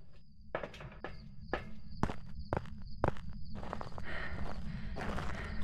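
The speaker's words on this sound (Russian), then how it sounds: "у меня приглушены шаги" Footsteps in the horror video game Phasmophobia, a run of regular thudding steps walking close by with some clattering, continuing alone without talk.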